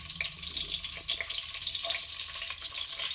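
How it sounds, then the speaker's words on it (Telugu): Chopped green chillies fry in peanut oil in a pan for a stuffed eggplant masala curry, giving a steady, soft hiss and sizzle with faint crackles throughout and no talking. "పచ్చిమిర్చి ఫ్రై చేసుకోవాలి"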